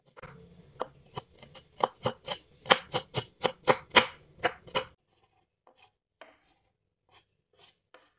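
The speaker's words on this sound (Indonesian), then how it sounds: "Geprek bawang putihnya. Lanjut diiris tipis." Thin slicing of crushed garlic cloves with a knife on a board: a quick run of about a dozen crisp, close chopping taps, followed by a few sparse, quieter knocks after a pause.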